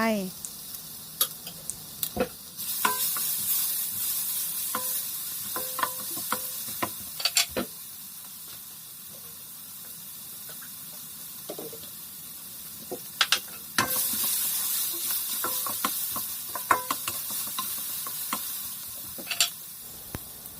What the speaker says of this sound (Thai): ผัดพริกจนสุก